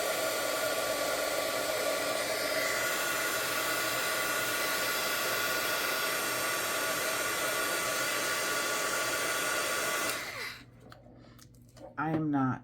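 A heat embossing tool blows hot air in a loud, steady whoosh at close range for about ten seconds, then cuts off and leaves a quieter room where a person begins speaking.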